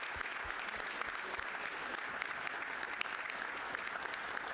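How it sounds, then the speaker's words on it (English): Warm applause for Jay Robbins at a virtual school board of education meeting, dense continuous clapping from a group that holds steady throughout at a fairly close, even level. "let's give a tremendous round of applause for Jay Robbins"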